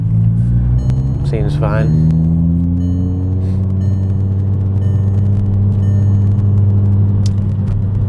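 A VW Rabbit driving along, with a continuous loud low engine drone and road rumble that shifts pitch slightly as it moves, a voice briefly speaking over it early on.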